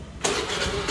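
A two-wheeler engine catches abruptly and keeps running steadily, close and fairly loud, with no talking.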